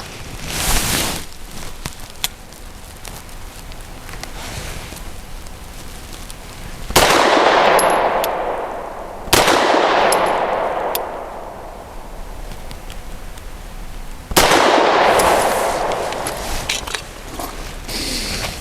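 Shots from a Grand Power P1 Ultra pistol firing heavy frangible rounds, with three sharp, loud reports spaced a few seconds apart, each trailing off in a long echoing decay over faint background noise, with no talking.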